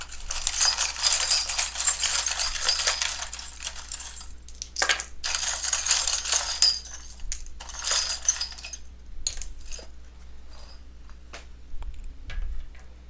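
Small charms are shuffled in the hands, giving bursts of light, quiet clinking and rattling that come and go with brief pauses and no talking.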